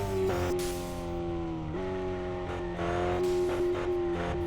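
A car on slick tyres pulls hard in second gear, its engine note loud and close, rising steadily in pitch with a brief dip partway through as it keeps accelerating.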